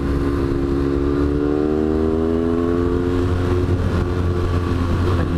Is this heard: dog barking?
no